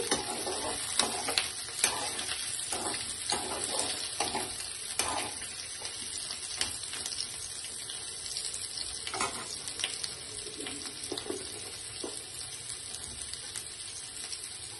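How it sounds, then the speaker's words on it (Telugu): Ivy gourd (dondakaya) pieces frying in oil in a pan, a continuous crackling sizzle with scattered sharp pops, close and fairly faint, without talk. "ఇదిగోండి, దొండకాయలు వేగాయి. ఇలా వేయించుకోవాలండి."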